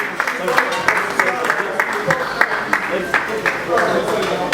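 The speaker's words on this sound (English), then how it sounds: "a round of applause for him" Audience applause at an inauguration lecture and swearing-in ceremony, a steady patter of clapping from a crowd lasting several seconds, with voices talking over it.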